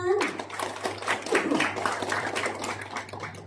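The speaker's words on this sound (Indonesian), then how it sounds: "Boleh kasih tepuk tangan?" Participants at an FTTH technical training session clap in a scattered, uneven rhythm, with voices chattering over the claps throughout.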